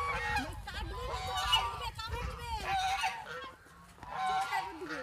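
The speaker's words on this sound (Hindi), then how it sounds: "नर्सरी में देखो कितना सारे बतख है बड़े वाला" Several large ducks honking and squawking loudly nearby at a nursery in an overlapping chorus, with a voice talking underneath.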